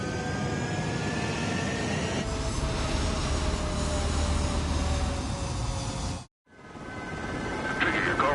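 A military aircraft taking off from a runway in a PS4 video game: a loud, continuous jet roar with a rising whine that cuts out briefly to silence, then swells again.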